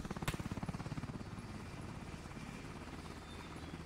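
Helicopter rotor in the Roblox game The Conquerors 3 thumping in a fast, steady rhythm, loud and close at first, then settling into a continuous droning whir.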